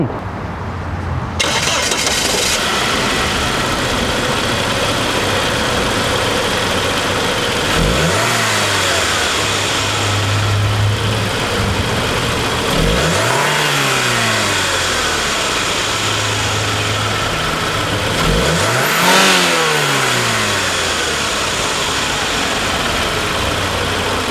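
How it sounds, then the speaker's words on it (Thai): A turbocharged Saab 9-5 first-generation car engine starts, then revs up three times over a steady idle, loud and close. "มาฟังเสียงเครื่องยนต์กัน"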